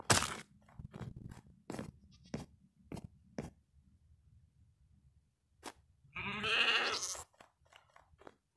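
A Minecraft sheep from the Caves and Cliffs update lets out a single loud, wavering bleat near the end, after a run of sharp crunchy footstep clicks and taps scattered across a quiet game scene.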